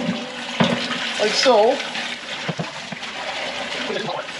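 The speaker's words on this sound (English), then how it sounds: "So now you just wanna rinse the bowl off" Water rinsing a stainless steel cotton candy machine bowl, running and splashing against the metal with small bursts and gurgles, while someone speaks briefly over it.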